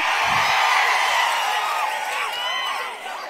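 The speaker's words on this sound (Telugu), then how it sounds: "గట్టిగా చప్పట్లు కూడా చెప్పండి, వీళ్ళ అవసరం లేదని" A large crowd at an outdoor political rally in Dhone, Nandyala, a loud continuous roar of cheering and whooping, distant and dense, with a faint voice over a loudspeaker.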